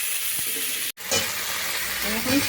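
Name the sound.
potatoes frying in oil with green chillies and spices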